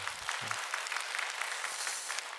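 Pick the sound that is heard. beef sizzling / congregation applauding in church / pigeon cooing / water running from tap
congregation applauding in church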